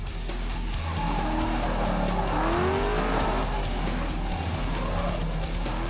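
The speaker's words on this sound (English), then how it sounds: "here at Las Vegas Motor Speedway" Cars race at LS Fest West at Las Vegas Motor Speedway, with loud engines roaring and tires squealing. Rising, whining engine tones overlap continuously, close and intense.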